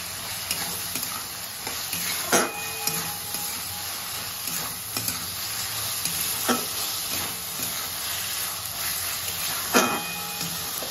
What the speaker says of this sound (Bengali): দিয়ে ভেন্ডির সাথে আমি ভালো করে মশলাটি কষিয়ে নেব।